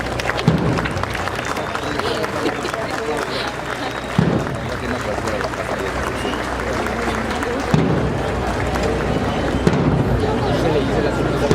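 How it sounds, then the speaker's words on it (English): Crowd noise at a night Semana Santa procession in Guatemala, with a dense, continuous wash of many people clapping and milling about, and a few sharper bursts rising above the steady din. "you can hear all of us like clapping for them"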